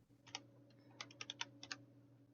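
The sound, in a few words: typing one-handed on a computer keyboard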